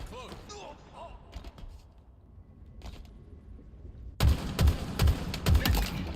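Rapid gunfire bursts in a Halo ranked match, erupting loud and close in the final seconds after quieter stretches with scattered in-game sounds and voices.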